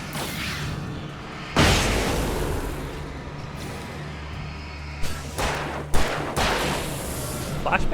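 A flashbang grenade goes off in Alan Wake Remastered: a sudden loud blast rolls into a sustained roaring wash over a low steady hum, followed by a few sharper bursts and impacts near the end.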